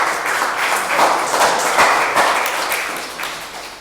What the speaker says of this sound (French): Et nous pouvons t'applaudir et te féliciter pour cet engagement.